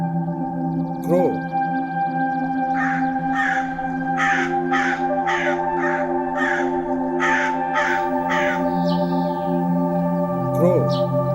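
A crow caws repeatedly in a run of about ten harsh, evenly spaced calls, loud and close, over a steady musical background with brief voice-like sounds at the start and end.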